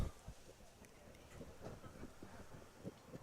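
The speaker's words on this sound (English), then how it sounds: "Very, very windy day here in the Tri-Cities." Wind buffets the microphone at a high school baseball game in low, uneven gusts and rumbles, with a few faint knocks and a brief thump at the start.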